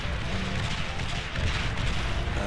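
Artillery units firing shells in the strategy game Beyond All Reason, producing a dense, continuous rumble of overlapping booms and blasts that stays loud throughout with no clear gaps.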